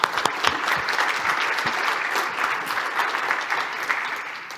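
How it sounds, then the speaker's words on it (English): An audience at a tech conference talk claps after the presentation, with close, crisp hand claps over a sustained wash of applause that runs throughout and eases slightly at the close. "Applause first."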